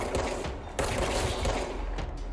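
Rapid bursts of gunfire from the video game Control, with sharp repeated shots and impacts in quick succession, fairly loud and continuous with brief gaps between volleys.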